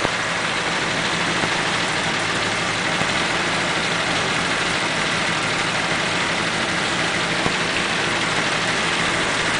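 A warmed-up 1941 Pontiac engine idles with a steady, loud, even rumble and broad noisy hiss, unbroken for the whole stretch with no talking.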